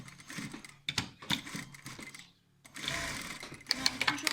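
Sewing machine stitching a washable cloth face mask, running in several bursts of mechanical whirring with short pauses between runs, fairly close and steady in tone.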